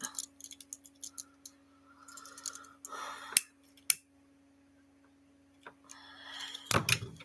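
Scissors trimming orange material, a run of quick, close snips and clicks with a few louder cuts and a steady low hum underneath, no talk.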